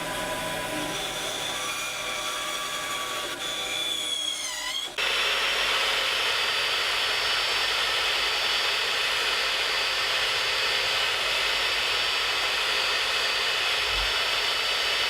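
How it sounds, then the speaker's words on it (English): A continuous whirring bandsaw runs throughout, its pitch shifting as the blade bites into wood to round off corners of a marking gauge around the five-second mark, then a steady cutting hum. "Now on the bandsaw, I'll round off the corners."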